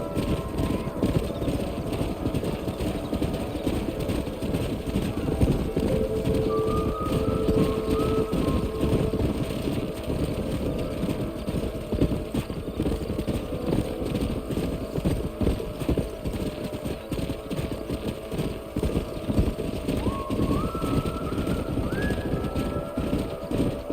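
Horse hooves clip-clop steadily in Red Dead Redemption on a ranch, a continuous rhythmic patter of several horses close by, with occasional whinnies and faint bird calls in the background.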